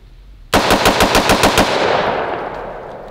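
A rapid string of about eight or nine 9mm pistol shots fired outdoors at a microwave, loud, close and sharp, followed by a long fading echo with no speech.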